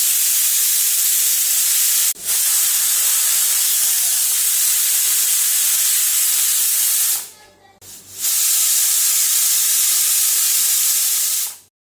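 A pressure cooker on a gas stove cooking goat mutton vents steam in a loud, continuous hiss, cutting off briefly twice before the jet resumes strongly.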